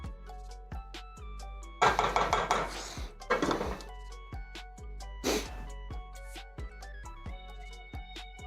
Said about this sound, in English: That one last good stir.